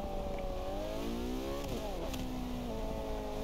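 A race car engine in Forza Motorsport 5 howls through a chicane, its pitch dropping and climbing through gear changes, then settling into a steady, slightly distant drone.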